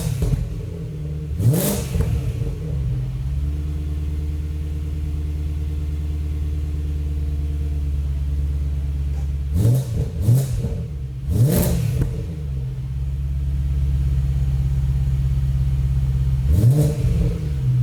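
A BMW E92 M3 fitted with an Akrapovic Evolution titanium exhaust idles in a steady deep rumble, broken by three or four sharp revs that rise and fall, loud and close, with no talking.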